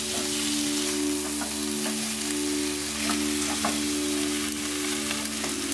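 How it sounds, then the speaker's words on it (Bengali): Fried cauliflower goes into a pan with potatoes for a vegetarian cauliflower malai curry, setting off a steady, close sizzle that holds evenly throughout over a faint constant hum. "ভাজা ফুলকপিগুলোকে আমরা তুলে নেব, তুলে দিয়ে এর মধ্যে দিয়ে দেবো"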